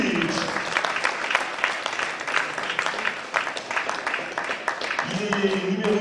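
An audience applauds a table tennis player at a club match presentation, a steady crowd clapping heard at moderate level while an announcer's voice comes over it.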